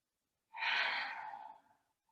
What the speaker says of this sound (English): Take some audible exhales in through the nose and side out.